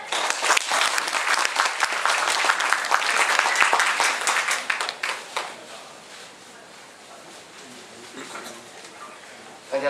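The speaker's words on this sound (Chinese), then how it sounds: "我们热烈掌声。" A hall audience at a Belt and Road awards ceremony bursts into dense, loud applause as an editor-in-chief is invited onstage; the clapping holds for about five seconds, then thins to scattered claps and room murmur.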